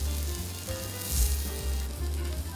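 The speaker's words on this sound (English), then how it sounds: "don't forget to put on the next batch of your beef" Wagyu beef cutlet on a stone stove in an Akihabara restaurant sizzles softly beneath a heavier low rumble of room noise, with a brief louder swell in the middle.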